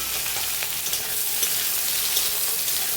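Ridge gourd stirred in a hot frying pan gives a loud, dense, continuous sizzle with faint scraping under it, close by and with no one speaking.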